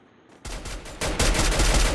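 Gunfire in the mobile battle royale game Free Fire, a sudden burst of rapid shots that grows louder and denser, close and harsh, with no talk over it.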